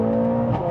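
Engine of a stage 2 Mercedes-AMG A45S with 500 bhp, a sustained loud, close drone of intake and exhaust with a brief rise near the end, heard alone.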